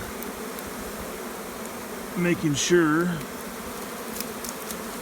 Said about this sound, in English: with this amount of bees, this is a good large swarm